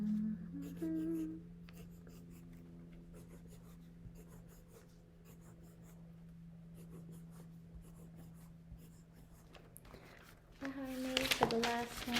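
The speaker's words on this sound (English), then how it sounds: "I'm gonna go ahead and draw a better one." Hand-drawn diagram on a board or paper for a math lesson, with faint marker or pen strokes scratching steadily under a constant low hum, then louder rubbing and scraping near the end.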